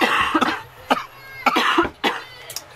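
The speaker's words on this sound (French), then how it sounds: "quand il y en a un qui tousse, ça communique et tout le monde tousse" Several short, sharp coughs come in quick bursts, about five or six in a row, close and moderately loud with brief pauses between them.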